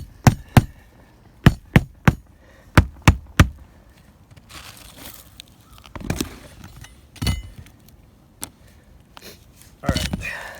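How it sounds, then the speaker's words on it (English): Hammer strikes on roof shingles during a DIY repair of blown-off shingles, a handful of sharp, close, evenly spaced taps in two bursts, followed by scraping and handling noises. "let's take our Home Depot special hammer."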